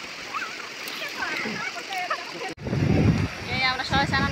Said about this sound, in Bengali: এই আমরা সবাই স্নান করতে আইছি যে নদীতে